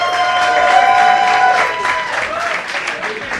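A live audience at a magic competition show cheers and applauds, a loud burst of clapping and whoops that swells and then tapers off, with a voice calling out over it.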